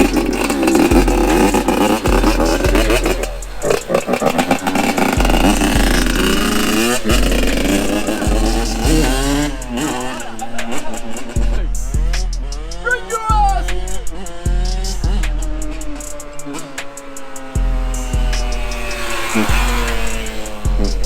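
A Yamaha YZ85 two-stroke dirt bike engine revving loudly and repeatedly nearby, rising and falling in sharp bursts, with voices talking over it.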